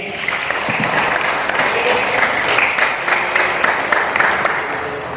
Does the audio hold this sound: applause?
yes